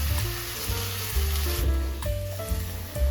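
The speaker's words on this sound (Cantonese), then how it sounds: "落翻少少水啦，煮一煮佢啦" Shiitake mushrooms simmer in a wok with a little added water, giving a steady, moderate sizzle and bubbling hiss, with soft tonal music running underneath.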